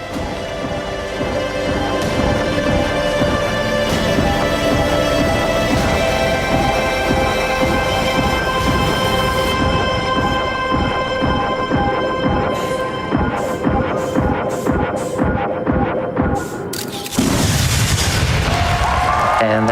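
Rumbling, storm-like video game audio plays steadily during a speedrun, then a sudden loud, broadband explosion bursts out near the end of the run.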